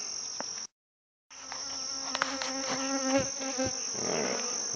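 Honeybees swarm around an opened hive, a dense layered buzz close by with individual bees droning past; a brief dropout cuts the sound before the buzzing resumes.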